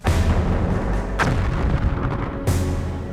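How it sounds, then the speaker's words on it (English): A World War One artillery barrage, rumbling continuous booms with two sharper reports standing out, heavy and layered as if from a distance, with no talking. "the artillery barrage opened."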